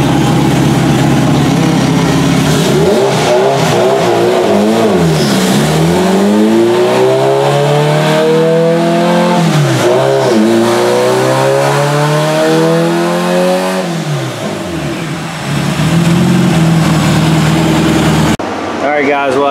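A big-turbo Honda B18 engine on a dyno runs up through a pull, its pitch rising in long sweeping revs with repeated climbs and drops, loud and close, then falling back to a rough idle.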